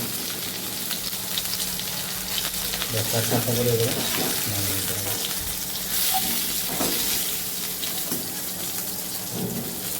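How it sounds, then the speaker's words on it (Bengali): Fish, including large stinging catfish, sizzle steadily in hot oil in a pan with a loud, continuous hiss, while a person speaks briefly over it. "সবগুলো মাছই ভাজা হয়ে গেছে"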